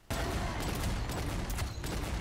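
Rapid continuous gunfire from the shooter game Paladins rattles loud and dense for about two seconds, a sustained burst of shots.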